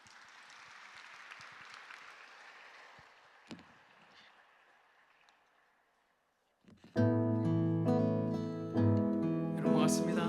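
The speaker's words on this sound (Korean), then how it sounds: "큰 박수 부탁드립니다." Moderate applause from an audience at the POSCO TJ Park Prize ceremony, fading out over several seconds into near silence before loud music with singing begins.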